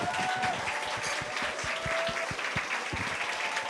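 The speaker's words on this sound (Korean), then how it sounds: "모두 뜨거운 박수로 맞아주시길 바라겠습니다" A seminar and rally crowd claps for a guest taking the stage, with distinct individual hand claps standing out over a broad, even wash of applause and faint tonal music behind.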